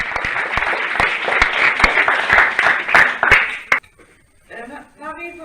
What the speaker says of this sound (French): Je vous demande d'applaudir chaleureusement Marie-Vonne et Isabelle.